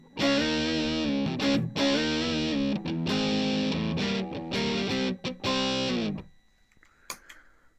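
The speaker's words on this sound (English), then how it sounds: "Cool thing with that pedal is That's an overdrive." Electric guitar played through an overdrive distortion pedal on a budget pedalboard: loud, sustained driven chords and riffs in several bursts with short gaps, ending abruptly into near silence with a faint pick noise.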